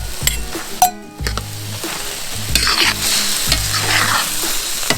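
Chicken korma sauce of blended onions, tomatoes, cashews and turmeric simmers in a pan, sizzling steadily while a spoon stirs and scrapes the metal in repeated close, clinking strokes; no talking.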